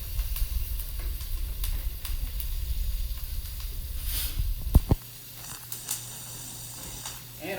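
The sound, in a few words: butter sizzling in a pan with garlic, thyme, rosemary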